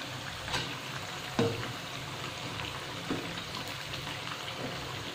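Rice flour cutlets shallow-fry in a pan, giving a soft, steady sizzle with faint crackles and a few brief clicks of turning, quiet and continuous throughout.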